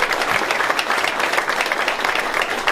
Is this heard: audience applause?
yes